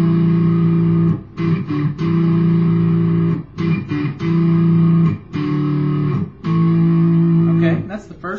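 A distorted electric guitar plays the first riff of a song alone, with chunky chord phrases in a steady rhythm broken by brief pauses.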